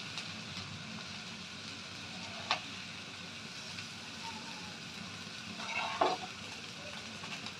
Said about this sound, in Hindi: शामी कबाब की दोनों साइडों को लाइट ब्राउन करना है और इनको ज़्यादा नहीं पकाना है